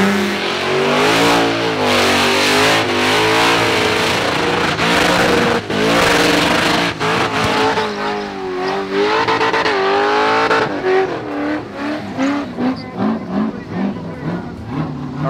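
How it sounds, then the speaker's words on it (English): A V8 burnout car at an Australian burnout event revs hard and loud right up close, engine roaring and surging in repeated blips before settling into choppier, uneven revving near the end. "As soon as you leave scrutineering, got to give it a bit of a rev."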